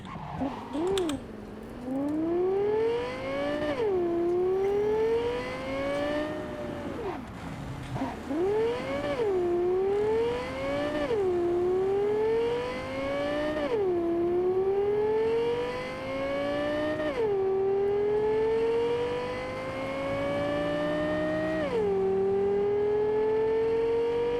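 A car drives in Cyberpunk 2077, its engine repeatedly revving up and dropping as it shifts gears, a steady run of rising whines over several seconds with little else heard.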